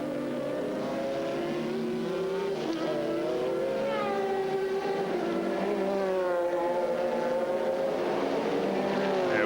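A Corvette GTS race car in a 2000 American Le Mans Series race accelerates flat out, its engine note climbing steadily in pitch and holding a loud, continuous roar throughout.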